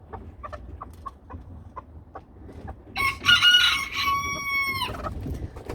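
A pet hen gives a run of soft, spaced clucks, then breaks into a louder drawn-out squawking call, close by with no voices.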